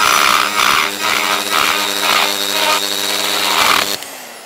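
Power cutter grinding material away from a cracked aluminium casting before TIG welding, a loud, close, high whine in repeated strokes with brief dips in pitch, stopping abruptly near the end.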